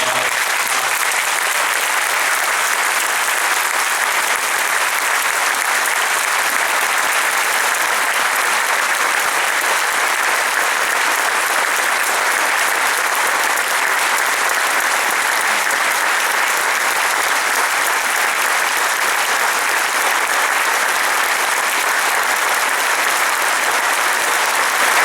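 Sustained, loud applause from a large crowd at a Portuguese political gathering honouring April Revolution figures, a dense steady clapping roar lasting throughout with no pauses.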